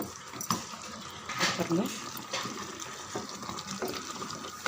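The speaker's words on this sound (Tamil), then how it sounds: "இந்த டைமில் 1 டம்ளர் தண்ணி, கறி முழுகிற அளவுக்கு வச்சுட்டா போதும்" Water from a tumbler poured into chicken kuzhambu masala in a pan, a continuous splashing and gurgling pour mixed with background kitchen noise while a person speaks briefly.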